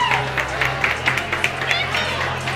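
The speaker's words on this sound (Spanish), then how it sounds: "Un fuerte aplauso para él, por favor" A live show audience at a Chilean pageant event claps in a bright, continuous patter, with crowd chatter and a low hum beneath the applause.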